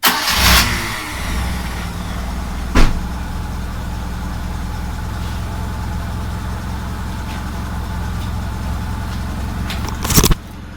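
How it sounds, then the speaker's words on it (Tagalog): A Mitsubishi 4G13 car engine cranks briefly and catches, settling into a steady idle that runs on for several seconds, with a couple of sharp clicks or bumps near the start and again near the end. "Then paanda rin natin ngayon yung makina."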